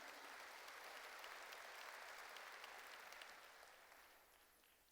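A church congregation applauds during an Easter service, faint distant clapping that fades out, followed by a sudden loud thump at the end.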